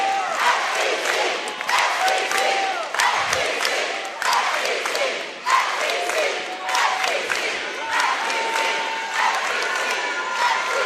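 A packed gym crowd at a girls' high school basketball championship cheers and shouts continuously, with rising and falling waves of noise, whistles and yells, and a commentator's voice faintly underneath.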